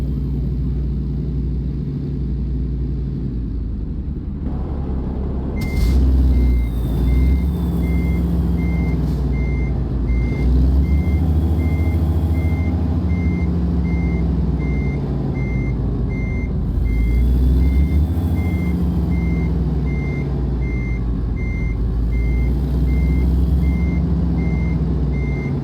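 Reversing beeps pulse in a steady repeating rhythm over a deep, rumbling truck engine in American Truck Simulator, with the engine swelling and easing as the vehicle backs up; loud and close, no voices.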